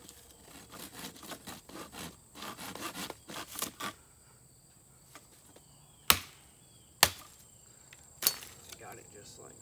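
Cutting a wooden stick for a primitive rake: a run of rhythmic rasping saw strokes close by, followed after a pause by three sharp separate knocks, with insects chirping faintly in the background.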